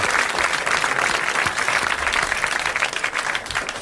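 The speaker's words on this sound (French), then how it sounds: "vous applaudissez Monsieur Garneri de Rueil-Malmaison." Studio audience applauding a guest named Monsieur Garneri of Rueil-Malmaison on a 1981 French television show, steady dense clapping at moderate loudness filling the whole stretch without talk.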